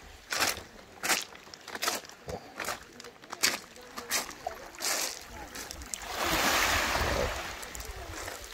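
Surf washes onto a beach on the Black Sea near Sevastopol in Crimea, with broad rushing swells and scattered thumps and clatter, building to a long, loud wash near the end.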